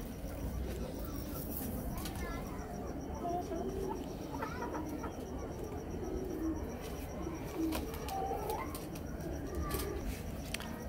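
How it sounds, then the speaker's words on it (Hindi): A kamangar pigeon on a Lahore rooftop gives soft, repeated coos at moderate distance while someone talks over it for most of the time. "आपको दूसरा कबूतर हम दिखा रहे हैं"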